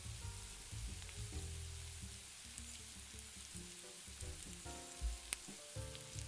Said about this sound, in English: We want to soften the garlic and infuse the olive oil